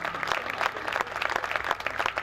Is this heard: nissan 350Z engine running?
no